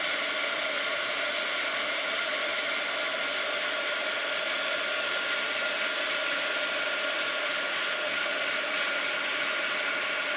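A heat tool blows steadily and loudly for the whole stretch, melting embossing powder on a Christmas card, a constant airy roar with no talk.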